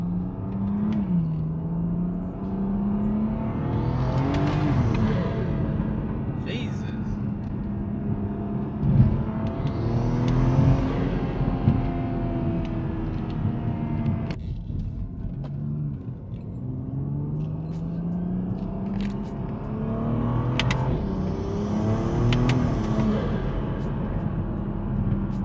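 A BMW engine hums steadily from inside the cabin, rising in pitch as it accelerates and dropping with each gear change, several times over, on 18-inch wheels.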